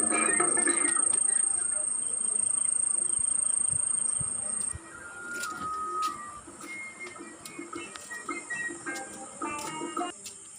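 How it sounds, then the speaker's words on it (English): Many insects chirp and buzz together at evening in a rural village beside a century-old house, a steady dense chorus with high sustained trilling tones, easing slightly partway through while scattered clicks and chirps continue. "Toward the evening, you will find different insects with their different sounds."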